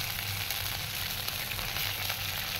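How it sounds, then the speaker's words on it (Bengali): Bay leaf sizzling in a hot pan with water and spices, a steady, even frying hiss throughout the short stretch, moderately quiet and with no voices. "এবার আমি এর মধ্যে তেজপাতাটা দিয়ে দিলাম"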